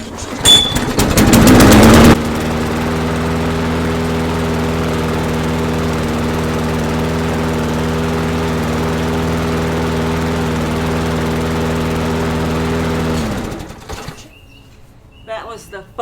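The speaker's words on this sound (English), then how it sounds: "That was the first pull." Lawn mower engine that won't crank catching on the first pull-start attempt: a sharp rattling pull, then a loud, steady idling drone for about eleven seconds before it cuts off and falls quiet.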